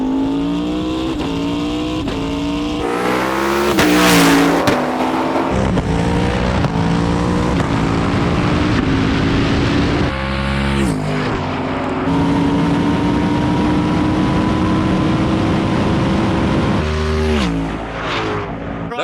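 A 760hp Ford GT500 Mustang and the 1,400hp Hoonicorn accelerate hard, their engines roaring loud and close and rising through repeated gear changes, with wailing revs that swell and drop across a long run.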